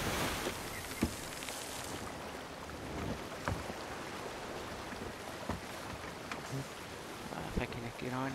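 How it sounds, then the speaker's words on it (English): Ocean waves and wind wash steadily around a ship at sea in Sea of Thieves, a continuous rushing swell with occasional knocks and creaks while players talk. "The waves."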